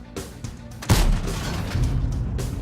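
Heavy artillery shell blast in World of Tanks near a Tiger II, a deep rumbling boom that rolls on under engine drone with scattered gunfire cracks before it, loud and close.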